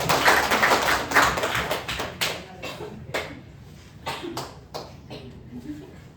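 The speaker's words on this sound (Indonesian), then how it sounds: "beri tepuk tangan teman-teman" A short burst of clapping from a small group of students in a classroom fades into scattered, uneven claps that trail off.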